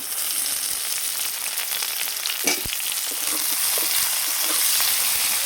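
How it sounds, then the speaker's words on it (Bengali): Onion and tomato frying in hot oil for a rohu fish curry, a steady close sizzle with a brief stirring clatter midway and no voices. "এবার এই তেলের মধ্যে আমি পেঁয়াজ দিয়ে দেবো।"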